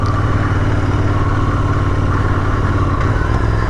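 A motorcycle engine drones steadily while riding, a loud, close, even hum with constant low rumble and rushing air and no breaks.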